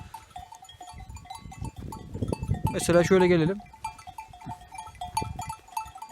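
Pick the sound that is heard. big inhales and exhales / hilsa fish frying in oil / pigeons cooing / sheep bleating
sheep bleating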